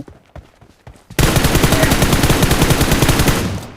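M4 rifle in the PUBG Mobile game letting off a long, loud automatic burst of rapid shots, close and steady, after a few single sharp shots.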